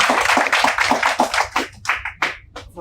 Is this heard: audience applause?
yes